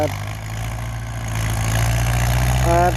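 A Ford 6600 tractor engine runs steadily at close range, a low continuous drone that swells slightly louder toward the end while pushing earth to fill a pond.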